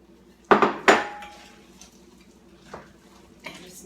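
Chocolate chips dumped into a bowl of cookie dough made with butter, eggs and sugar, landing in two loud clattering bursts close by, followed by a couple of softer knocks.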